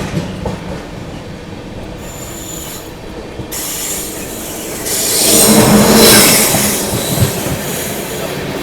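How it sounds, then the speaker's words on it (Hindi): Mahabodhi Express passenger train slowing on the rails, with steady wheel rumble and rising squeals of wheels and brakes in the middle stretch, loud and close with no voices. "यहाँ पर अपनी भी महाबोधि एक्सप्रेस जो है काफ़ी धीमे हो चुकी है।"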